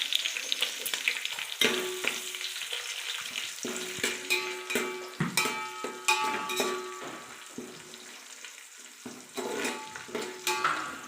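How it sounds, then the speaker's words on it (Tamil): Onions frying in a pan for chicken biryani, a steady sizzle broken by repeated clinks and scrapes of a spoon stirring against the pan, close up with no voices. "வெங்காயம் கொஞ்சம் நேரம் நல்லா ஃப்ரை ஆகணுங்க."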